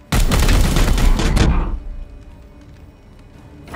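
A heavy rapid volley of weapons fire from the video game Warhammer 40,000 Chaos Gate lasts about a second and a half, then cuts to a quiet low rumble with a thud at the end.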